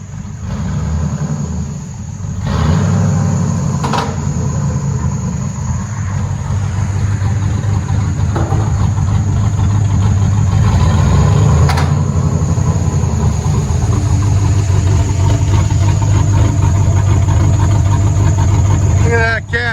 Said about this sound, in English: You can hear the cam. Rup,